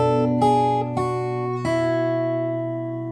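Fingerstyle guitar plays the melody of a song over a held chord: four plucked notes at an unhurried pace ring out close and clear, then the last one fades alone with no voice.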